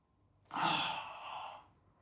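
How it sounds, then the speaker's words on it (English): One deep breath drawn during yoga, a close, airy rush that swells quickly, holds for about a second and fades out, alone in a quiet room. "Deep inhale."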